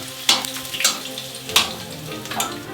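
Bacon lard fries hard in a pan over full heat, a steady close sizzle broken by a few sharp spits and stirring scrapes, with no talking.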